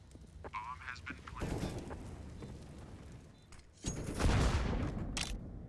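A grenade detonates in a CS:GO professional match on the Vertigo map, a loud broadband blast followed by a second heavy boom amid gunfire and game noise, with a caster talking over it.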